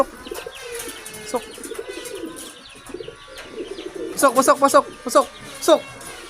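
Racing pigeons at their home loft, heard in a rapid run of bright cooing and chirping calls in the second half, near and fairly loud over a background of distant voices and ambient noise.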